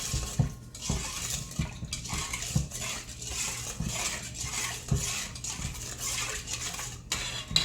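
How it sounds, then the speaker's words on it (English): A spoon stirs beef jerky marinade in a bowl. It makes repeated clinks and wet swishing sounds at a quiet, uneven rhythm, with no talk. "You can stir it in."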